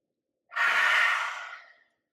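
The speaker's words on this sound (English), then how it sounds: "Inhale." A single slow, deep inhale during a trauma-informed yoga sequence, soft airy breath swelling quickly then tapering off gradually, close and alone against silence.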